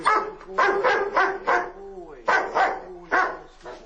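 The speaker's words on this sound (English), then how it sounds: "He's barking at the wall up here, Paul." A dog barks in quick clusters, loud and close, with short pauses and a few whiny, drawn-out yelps between bursts.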